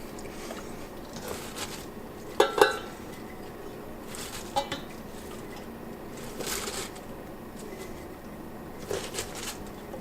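Juicy fermenting cabbage being packed into sterilized wide-mouth mason jars, giving soft wet shuffling and a pair of sharp glass clinks, then quieter scraping and tapping at moderate distance.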